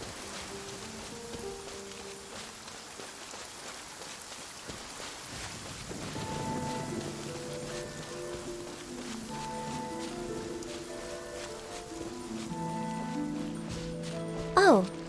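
Rain falls softly and steadily in a courtyard in the Inazuma region of Genshin Impact, a faint, even hiss under gentle musical tones, with a brief louder burst at the end.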